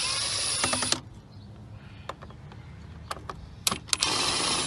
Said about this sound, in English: I'm using my Ryobi gun, and I'm putting it at the lowest setting, setting 1, just because I don't want to break anything